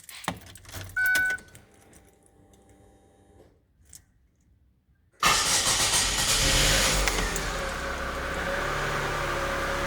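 A Holden Barina with a freshly replaced fuel pump rattles through its keys, then the engine cranks and catches at once, settling into a loud, steady idle that runs on close by.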